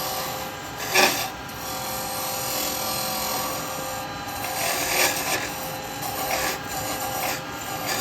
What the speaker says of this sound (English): With having my chisel handle down as well, I can feel it when it comes to the bottom without any grabbing.